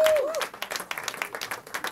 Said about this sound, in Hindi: तो एक बार तालियां जोर से एक बार आने दो।